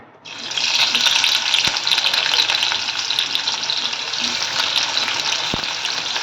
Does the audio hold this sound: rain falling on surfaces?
no